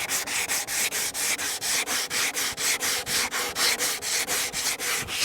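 A battery-powered sander scrubs leftover paint off a rusted mirror in a steady back-and-forth rhythm, each close, loud pass rasping in even strokes with no talk over it.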